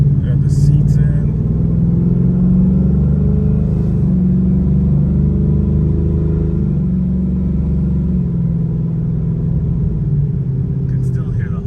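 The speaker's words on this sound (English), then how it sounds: "Can still hear the hum of the rear end" A low, steady droning hum from a worn rear differential fills the cabin of a moving supercharged Ford Mustang GT, constant under road rumble, with a few faint clicks and rustles.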